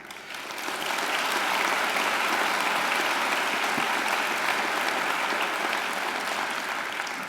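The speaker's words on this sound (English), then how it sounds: "let's also give a great round of applause to our fantastic musicians" Graduation ceremony audience applauding the organist and trumpeter, a dense, steady wash of clapping from a large crowd in a hall that swells in quickly and holds strong for several seconds.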